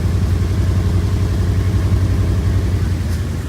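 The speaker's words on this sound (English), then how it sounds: "This thing's got a custom side pipe exhaust." A 1963 Buick Riviera idles loud and close through a custom side pipe exhaust, a deep, steady rumbling burble with a lumpy low pulse and no talk over it.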